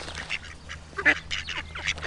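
Ducks quack outdoors in a rapid run of short, nasal calls, several overlapping, moderately faint, with no one speaking.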